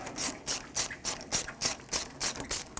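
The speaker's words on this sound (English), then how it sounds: "Use either a Phillips head screwdriver or an 8mm socket. Loosen it up." An 8mm socket ratchet loosens the worm-gear clamp on the upper radiator hose of a 1996-2002 Toyota 4Runner, giving about ten steady, evenly spaced raspy clicking strokes, close and fairly quiet.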